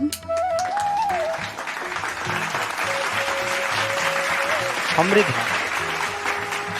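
A studio audience on a Bengali singing reality show semi-final breaks into loud, steady applause that continues throughout, with a faint voice and musical tones underneath.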